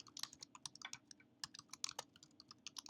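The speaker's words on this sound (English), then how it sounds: "And carefully type that in" Quiet, close typing on a computer keyboard: irregular quick clicks and taps of keys while entering a website citation, with no voices.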